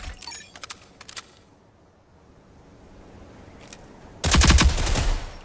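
Gunfire from the online shooter Rogue Company on PS4: a few short, sharp shots near the start, then a loud, sustained automatic burst that fills the last second, with no talking.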